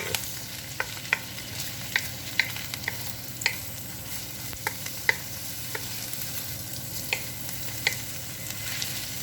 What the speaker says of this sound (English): Now let's just saute this for a couple of minutes.